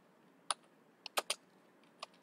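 Someone taps out a handful of quiet keystrokes on a computer keyboard, the clicks coming in an irregular, sparse rhythm with no talking.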